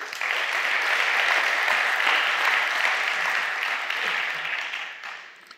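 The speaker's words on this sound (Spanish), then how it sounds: "Dale un aplauso a Jesús." A church congregation breaks into steady applause during a sermon, a sustained wash of clapping lasting several seconds before tapering off at the end.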